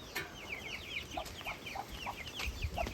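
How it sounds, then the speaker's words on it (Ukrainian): Young chicks and ducklings on a small home farm give a string of thin, high peeps, scattered across the whole stretch, with a few lower clucks and faint background rustling. "Ще я вам покажу, які вже курчатка стали, каченятка"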